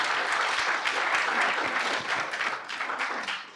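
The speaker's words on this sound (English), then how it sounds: "You can give her a clap" Conference attendees at Scale up Con 2023 clap for a speaker, a full, bright burst of massed applause that gradually thins and softens over a few seconds.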